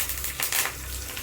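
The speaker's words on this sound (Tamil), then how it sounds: "கொஞ்சம் கடுகு, கருவேப்பிலை, வரமிளகாய் மட்டும் போட்டு தாளிச்சுக்கோங்க" Mustard seeds, curry leaves and dried red chillies are tempered in hot oil, giving a brief burst of sizzling and crackling frying.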